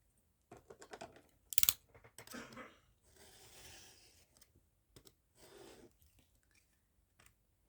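Scissors cut through a used Christmas card in a few short snips and papery rustles, close by and quiet, with pauses between the cuts.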